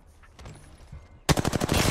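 Rapid automatic gunfire in the Apex Legends video game, a loud burst of close, evenly spaced shots erupting after a quieter stretch of faint game sounds.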